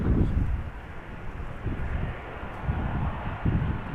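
A Delta Airbus A330-300 arrives at Amsterdam Schiphol in gusty crosswinds, its engines a steady, loud, broadband roar mixed with buffeting wind noise on the microphone.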